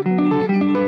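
Guitar chords picked with pick and fingers while the notes are held down to ring together, giving a short, warm, sustained pattern of overlapping tones; close and clear, without speech.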